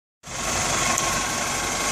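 A 1998 Toyota Camry 2.2L engine idles steadily outdoors after a water pump housing gasket repair, a constant close rumble with a faint mechanical tick, starting abruptly after a short silence and holding even to the end.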